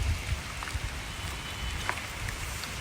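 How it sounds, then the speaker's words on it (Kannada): Rain falls steadily at a temple, a soft, even patter with scattered faint drops, quiet and continuous with no voices. "ಮಳೆ ಬರ್ತಾ ಇದೆ."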